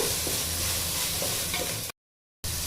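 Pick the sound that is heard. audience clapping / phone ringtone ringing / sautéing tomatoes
sautéing tomatoes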